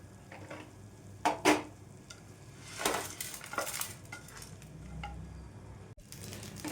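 Roasted sesame seeds and curry leaves scraped from a pan onto a plate, giving a few sharp metallic clinks and scrapes near the mic, then softer rustling and shuffling against a low background hum.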